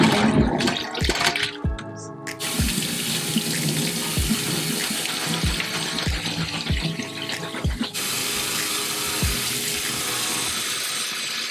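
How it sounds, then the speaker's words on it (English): Cold tap water pours over food in a colander in a kitchen sink, a steady hissing rush broken by several dull knocks and clatters of the colander and dishes, loud and close. "we're going to take it over to the sink and put it in a colander under cold running water"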